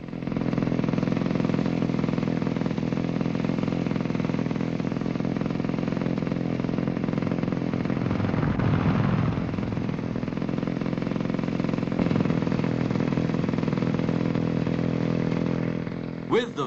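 Classic Vespa scooter engines idling in post-war Italian scooter culture, a steady buzzing putter heard at moderate distance, continuous with slight fluctuation.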